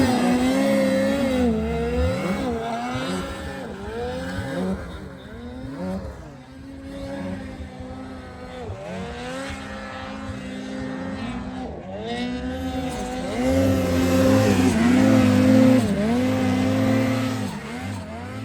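A 165 turbo engine on Josh's machine climbing a trail, loud and close, its pitch repeatedly rising and falling as the throttle revs and eases, growing louder toward the end.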